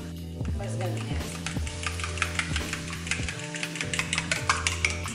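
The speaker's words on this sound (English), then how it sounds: "All right, it's sizzling now." Pork sizzles and crackles steadily in a frying pan, with a low hum and occasional scraping or stirring sounds throughout.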